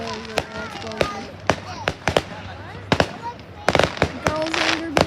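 Fireworks at an outdoor show go off in a rapid irregular series of sharp explosive bangs and crackles, some close together in bursts, with voices talking in the background.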